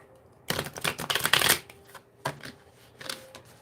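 A Spirit Halloween oracle card deck being shuffled in two bursts, a long dense riffle of rapid crisp flutters followed after a pause by a shorter, softer run of card slaps, close up.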